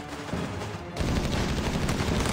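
Dense battlefield gunfire from Company of Heroes 3, a World War II strategy game, with a steady wash of rifle and machine-gun bursts that swells louder after the first second and keeps rattling without pause.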